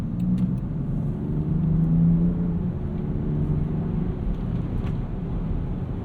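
A 2024 Land Rover Defender 130 with an inline-six engine drives along, a steady low engine drone and road rumble heard from inside, constant and even throughout with no talk.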